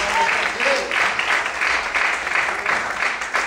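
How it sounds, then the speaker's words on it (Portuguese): A church congregation claps hard and steadily throughout, a dense, loud wash of applause with voices present in the room. "Aplaude o Senhor muito forte, queridos."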